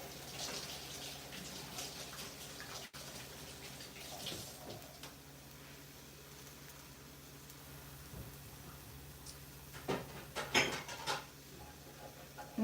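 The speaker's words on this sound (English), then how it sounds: "Let me wash my hand." Running kitchen tap water while hands are washed during home cooking, faint and steady, with a few louder splashes and clatters near the end and no voices.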